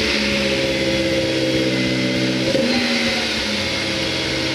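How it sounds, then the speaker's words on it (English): A 2006 Honda S2000 fitted with a custom exhaust fires up and settles into a steady, loud, close idle, its deep droning note holding with a brief blip near the middle. "I'm going to turn this one on, just take a listen to it."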